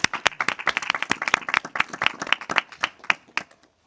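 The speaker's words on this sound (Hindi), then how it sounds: "यीशु के लिए जोर से ताली लगा दें" Congregation clapping loudly for Jesus during a Christmas church service, fast rhythmic claps by a small group at close range, stopping abruptly after about three and a half seconds.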